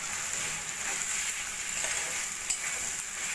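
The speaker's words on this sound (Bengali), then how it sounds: "কচুরলতি দিয়ে আমি লো ফ্লেমে নাড়া দিয়ে দিয়ে রান্নাটা করে নেব।" Boiled kochur loti (taro stolons) stirred into a tomato and spice masala in a pan over a low flame, with a soft, continuous sizzle and occasional scraping strokes of the spoon.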